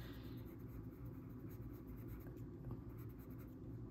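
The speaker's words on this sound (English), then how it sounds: "these pencils really blend" Steady soft scratching of colored pencil blending on paper, continuous and close, with a low rumble underneath.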